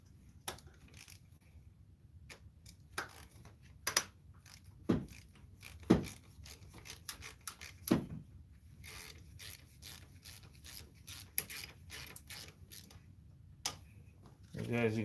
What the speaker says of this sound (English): Loosen these bolts.